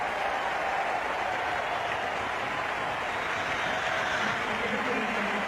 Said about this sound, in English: the crowd giving him a big hand for his half century